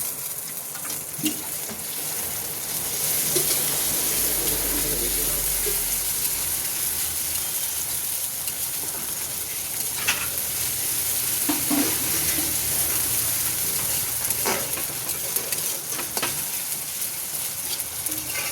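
Onion frying with ginger-garlic paste and tomato in a pan, a continuous loud sizzle with scattered scraping stirs and clicks of a spoon, no talking.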